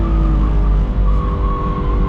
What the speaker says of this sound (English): we're going to kick the throttle, and we're just going to try to maintain this slide around these cones